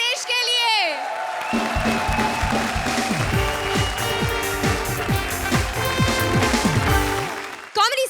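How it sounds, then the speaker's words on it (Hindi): Loud applause and cheering rise from a studio audience at the Indian TV comedy show Comedy Circus, sustained for several seconds with a voice talking over it. "तो जोरदार तालियां एक बार कृष्णा और सुदेश के"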